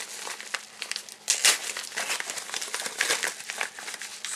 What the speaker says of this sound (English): so let's get this unwrapping.